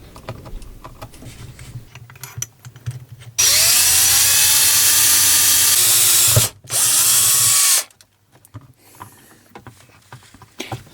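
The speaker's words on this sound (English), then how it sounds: "I then drilled a larger hole in the middle of the space covered up by the bracket." A power drill bores a larger hole through a car panel for speaker cable pass-through, a loud steady whine of about four seconds, a brief stop, then another burst of roughly a second and a half before quiet handling noises.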